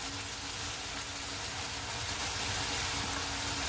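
Tomato frying in oil spiced with salt, red chilli and turmeric for masala rice, a steady, dense hiss and sizzle that holds evenly throughout with no talking.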